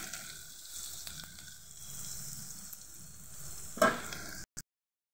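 Chopped onion sizzling steadily in a pan for Indian-style macaroni pasta, a close continuous hiss with a few faint stirring taps and one louder scrape near the end before cutting to silence.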